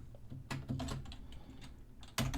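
Keys clatter in irregular bursts as someone types code for a do-while loop on a computer keyboard, close and fairly quiet, with a heavier flurry of strokes at the end.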